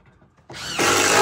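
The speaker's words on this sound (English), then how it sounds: "drilling pilot holes now and putting the screws in place" A power drill bores pilot holes and drives screws into the wooden rungs of an old mine ladder, with a loud steady whir that rises partway through, heard close up and without talk.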